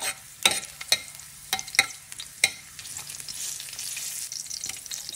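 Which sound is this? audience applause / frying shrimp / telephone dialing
frying shrimp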